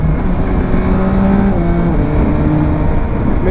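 A Yamaha Tracer 900 GT motorcycle riding at speed gives a loud, steady engine drone with faint shifting pitch, layered over constant rushing wind noise and no speech.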